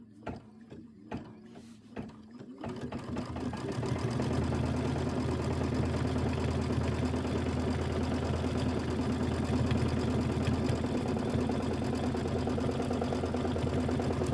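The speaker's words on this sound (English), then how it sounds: "Let's go ahead and stitch." A quilting sewing machine stitching the borders of a Kimberbell Pumpkins and Potions quilt. It starts with a few sharp mechanical clicks, then settles into a loud, steady, fast motor whir with a rapid needle chatter.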